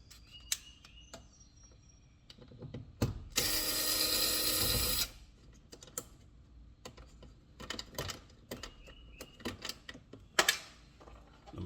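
Ratcheting bit driver unscrewing T20 screws from an Audi S5 B9.5 door speaker, close and quiet, with scattered single clicks and one sustained loud ratchet burst of about two seconds in the middle, then more scattered clicks.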